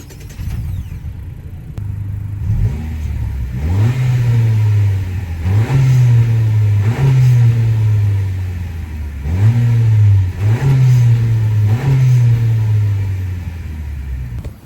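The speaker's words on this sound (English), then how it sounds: "that was a couple revs on the car" Turbocharged engine of a 2024 Honda Accord EX revved several times with the hood open, close and loud, each rev a rising, falling roar over a steady idle rumble, about six blips in an even rhythm.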